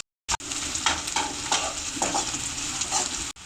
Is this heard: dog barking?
no